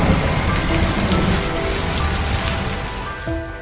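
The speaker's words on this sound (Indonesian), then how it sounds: "hutan tersebut diguyur hujan sangat lebat" Heavy rain pours steadily on a forest at night, a dense, loud, unbroken wash of drops that eases only slightly toward the end.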